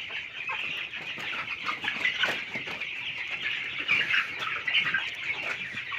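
Dense chorus of Paragon-grade poultry chicks clucking and peeping inside a lit poultry shed, continuous and moderately close with overlapping chirps, no talking.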